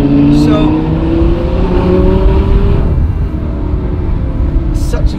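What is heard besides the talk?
Audi R8 engine revving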